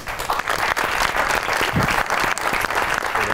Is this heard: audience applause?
yes